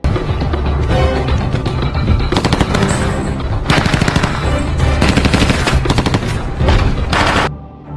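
Rapid automatic gunfire rips out in dense, sustained bursts from a SWAT team shooting during training in a film, loud and close, with short gaps between volleys before cutting off near the end.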